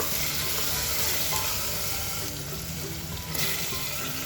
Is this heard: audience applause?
no